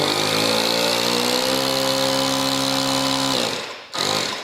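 WorkProX portable tire inflator running in car mode, a steady buzzing motor drone close to the microphone that changes pitch near the end, cuts off briefly, then starts again.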